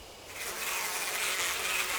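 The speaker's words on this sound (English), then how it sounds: "The bees are gathering on it." Bees gathering and buzzing around a corpse in the Spirit Hunter: Death Mark video game, a continuous thin hum that swells slightly and holds steady with no talking.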